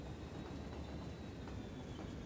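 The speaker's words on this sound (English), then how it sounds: "We have trains going out like crazy with all sorts of farming goods." Freight trains carrying farm goods roll through a city in the Cities: Skylines video game, producing a steady low rumble with a faint metallic whine, heard alone with no talking.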